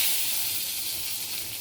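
Whole cumin seeds and two bay leaves sizzle in hot oil, cooking the start of a village-style fig and potato curry, a loud, steady, close-up hiss that holds without a break.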